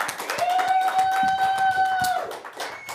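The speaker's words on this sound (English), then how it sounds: "please give me a loud round of applause for our host" Scattered hand claps from a small comedy show audience fill the moment, with a sustained tonal whine sounding across the middle.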